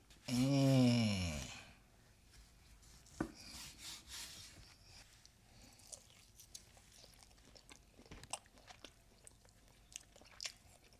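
Smoked and seared beef tenderloin is sliced on a board. A brief loud tonal sound opens the clip, then come soft, irregular cutting and rubbing sounds with light knife taps, close and fairly quiet.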